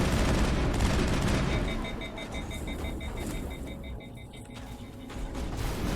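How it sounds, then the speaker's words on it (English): Enemy gunfire in the video game Mass Effect 1, a dense, steady clatter of shots and whining weapon tones that runs throughout, dipping slightly in the middle before swelling again. "Would you guys stop shooting me?"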